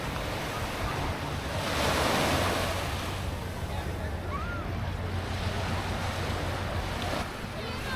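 Surf washes steadily onto the busy public beach at Varkiza, Greece, a broad continuous roar of breaking waves with wind buffeting the microphone and a low rumble underneath, swelling briefly near the start, with no voices.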